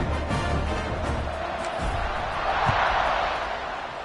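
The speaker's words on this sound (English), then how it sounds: "this crowd now ready to get behind them" Stadium crowd noise at a college football game in a video game, Kentucky at North Carolina, a steady roaring murmur that swells slightly toward the end under continuous commentary.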